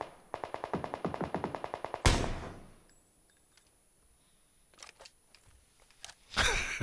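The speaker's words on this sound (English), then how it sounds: "Definitely someone over there firing away." Gunfire in PUBG, a rapid burst of about fifteen automatic shots, then a loud crack, followed by scattered quieter distant shots and another sharp blast at the end.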